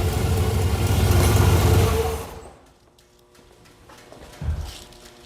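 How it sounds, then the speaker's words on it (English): A cammed Chevy 350 in a 1987 Firebird, loud and close for two seconds before cutting off, leaving a quiet lull and a brief low rumble near the end. "It sat here and idled. And it sounds pretty healthy."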